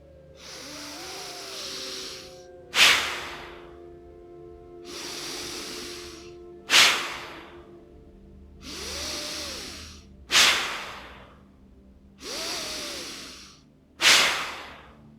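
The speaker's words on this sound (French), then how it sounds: "je vais rajouter la respiration avec la cage thoracique, en passant par le ventre d'abord." Yogic full breathing drawn in through the nose into the belly and rib cage, close and loud, with slow inhales alternating with sharp, forceful exhales in a regular cycle, about four breaths in all.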